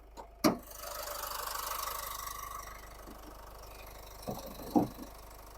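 A 2015 Renault Koleos 2.0 dCi diesel engine idles with a steady low rumble under a raised hood, punctuated by a few loud thumps and clunks nearby.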